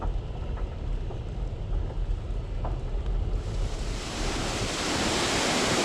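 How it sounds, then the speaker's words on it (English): Strong wind roars steadily outdoors at Elk Neck, Maryland, in November, a dense broadband rush that swells louder halfway through, with surf-like gusts and no voices. "But the wind's still blowing like crazy out here."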